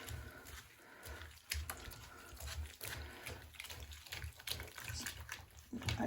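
A finished cross-stitch piece is gently agitated in a bath filled about an inch deep, giving soft, continuous sloshing and light splashing close by, with small irregular swells and no speech.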